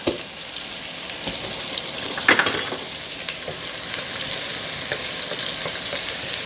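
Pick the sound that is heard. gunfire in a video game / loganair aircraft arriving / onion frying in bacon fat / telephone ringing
onion frying in bacon fat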